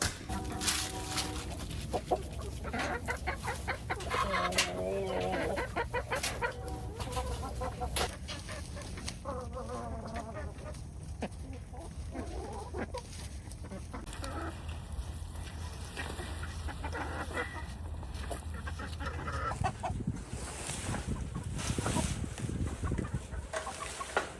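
A flock of chickens clucks and squawks continuously nearby, with overlapping calls and some duck-like quacks mixed into the busy outdoor noise.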